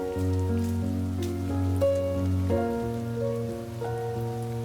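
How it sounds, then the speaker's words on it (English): Rain falling in the video game Behind The Frame: a soft, steady patter that runs throughout, with sustained musical tones playing over it. "schedule disrupted by the sudden rain"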